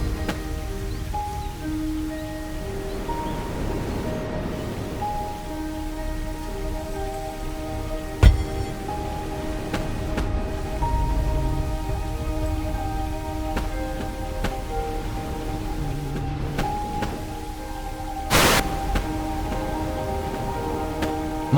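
Heavy rain pours steadily onto a deserted island shore, a continuous hiss of drops on the surface with a few louder splashes and faint sustained tones underneath.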